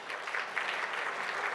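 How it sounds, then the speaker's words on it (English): An audience claps together at a gathering to honor guests, a brief, fairly soft wash of applause heard from across a room. "let's just stand up and recognize with applause"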